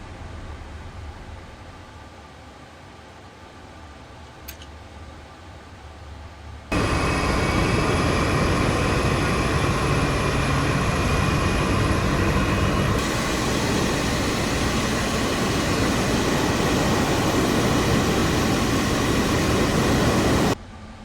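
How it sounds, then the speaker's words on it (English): Boeing 777-F engine 1 starting in Microsoft Flight Simulator: a steady low hum of cabin air, then a sudden loud, broad roar rising as the engine spools up and holds, continuous and alone with no talk. "Starting engine 1."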